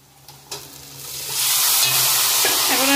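Boiled black taro leaves dropped into a hot pan and stirred: a quiet start and a thud, then a loud, rising hiss of frying that holds steady, with spatula scrapes near the end.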